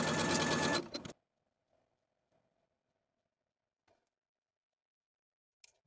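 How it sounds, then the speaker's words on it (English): A sewing machine stitches darts on a blouse in one loud, close burst of rapid motor whir lasting about a second, then near silence with a few faint clicks. "And now I'm ready to sew my darts, sewing from the outside edge to the point"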